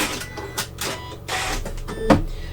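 A Janome sewing machine stitching quilt binding to the end with a locking stitch, a rapid mechanical whirring in short uneven bursts with a sharp click near the end.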